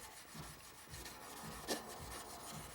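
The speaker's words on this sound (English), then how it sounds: "Not if you're hand sanding like I am." Sandpaper rubbed by hand along the blade of a Spyderco Manix 2 XL folding knife in Cruwear steel, a steady close raspy scraping in repeated back-and-forth strokes with a brief louder stroke partway through.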